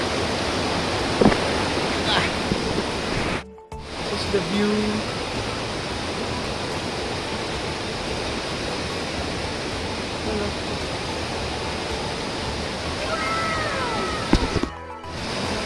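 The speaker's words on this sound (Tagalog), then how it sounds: "Malakas yung flow ng tubig." Strong rushing river water at the Lipit River in Pangasinan, a steady broadband roar of flowing current close by, with a short spoken remark over it.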